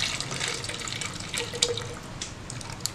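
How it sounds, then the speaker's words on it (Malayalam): Thick milk is poured into a container for an Oreo shake, a soft, continuous liquid stream with a few faint splashes and drips, quiet and close, with no talking. "അപ്പൊ കുറച്ച് പാൽ ഒഴിക്കാം."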